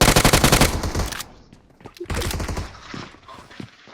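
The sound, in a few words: gunfire in a shooting video game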